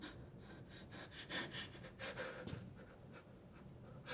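Heavy, rhythmic human breathing from someone swinging a tool hard, with repeated breathy inhales and exhales close to the mic, no talking.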